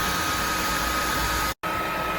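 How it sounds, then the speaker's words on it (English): A hair dryer blows into a pair of rigger boots to warm them, a steady loud whooshing drone with a faint high whine that cuts out briefly near the end before resuming. "you can get the hairdryer in there, get them nice and warm"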